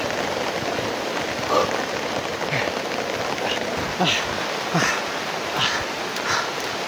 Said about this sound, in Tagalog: So lakas ng ulan, no?